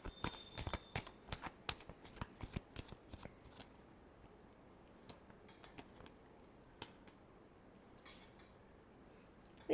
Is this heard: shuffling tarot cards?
yes